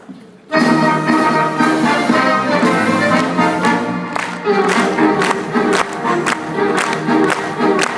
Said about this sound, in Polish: publiczność wtedy tradycyjnie oklaskami nagradza muzyków